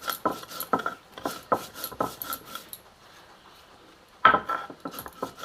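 Radhuni (chandani) seeds being ground by hand on a sil grinding stone for sukto, heard as a run of quick rhythmic rasping strokes close by. The grinding pauses for about a second, then resumes with a few louder scrapes.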